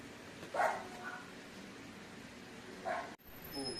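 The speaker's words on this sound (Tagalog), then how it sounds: "konting commercial break kasi medyo nag-ingay yung aso, may dumating" A dog barks twice in short bursts, a few seconds apart, from somewhere nearby, against a faint background hum.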